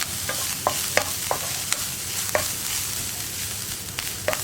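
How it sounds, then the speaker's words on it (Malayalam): Grated coconut is sautéed in a little ghee in a pan for cherupayar laddu, making a steady soft sizzle punctuated by a series of quick, sharp spatula taps and scrapes from close by. "ഇതേ നെയ്യിൽ തന്നെ നമുക്ക് നമ്മൾ എടുത്തു വെച്ചിരിക്കുന്ന തേങ്ങ വഴറ്റിയെടുക്കാം"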